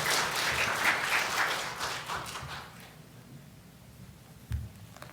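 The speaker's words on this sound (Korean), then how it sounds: "우리 목사님 나오실 때 할렐루야와 함께 박수로 환영해 주시기를 부탁을 드립니다" A church congregation claps to welcome the pastor at a Sunday worship service. The loud applause fades over about three seconds, followed by a soft thump.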